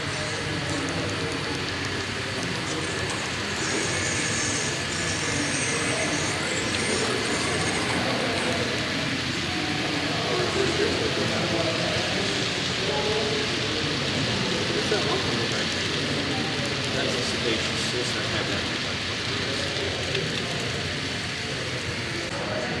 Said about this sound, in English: Steve's going to bring his train forward through Azalea